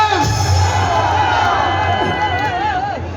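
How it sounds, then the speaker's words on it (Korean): A crowd at a Korean national-security civic groups' rally cheers and whoops as a former counter-espionage officer is welcomed, with a continuous loud roar of voices that eases slightly toward the end. "큰 박수로 맞아주십시오"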